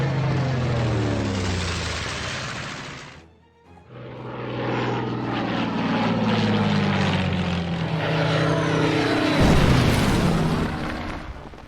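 Propeller fighter planes in the Order of Battle WWII strategy game roar past while strafing tanks, loud droning engine passes with pitch sweeps, a brief cut near the middle, and a final swelling flyby.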